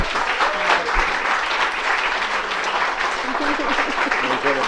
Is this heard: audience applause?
yes